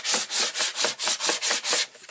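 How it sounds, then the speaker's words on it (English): Steady rhythmic rubbing over tape on a paper album page, about eight even back-and-forth strokes, close and fairly loud with no voices. "So I'm just going to rub over and make sure all that tape is adhered down."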